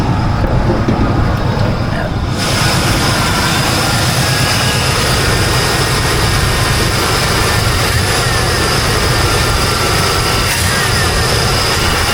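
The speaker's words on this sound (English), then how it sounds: "It's idled up just a little too high" A Chevelle engine idles slightly too high during a roadside tune-up, a loud, steady rumble that runs unbroken from start to finish without noticeable revving.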